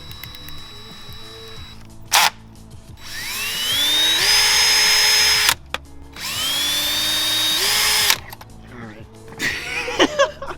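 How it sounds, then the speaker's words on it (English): A power drill bores holes for aftermarket GT500-style side skirts on a Whipple-supercharged Ford Mustang GT, with two long whining spins that rise in pitch, separated by short bursts and pauses, loud and close, with some talk nearby. "So we're making our own holes here."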